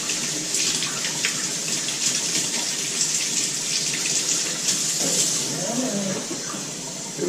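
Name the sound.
hot water running from a tap into a plugged basin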